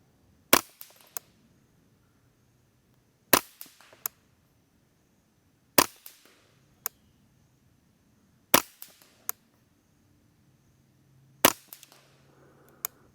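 Suppressed Ruger 10/22 rimfire rifle firing five sharp, loud shots spaced about three seconds apart, each followed by faint clicks and quieter ticks, with no talking.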